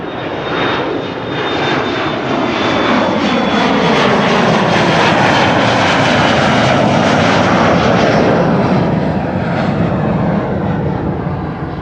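Loud, close aircraft engines roar continuously at Amsterdam Schiphol Airport, a broad steady rumble with a faint high whine running through it.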